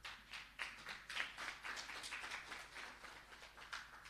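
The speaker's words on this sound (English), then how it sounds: "Give the country a clap." A small audience at a Jamaican accreditation awards function claps briefly in response to a call to applaud the country, the scattered, uneven hand claps sounding thin and somewhat distant.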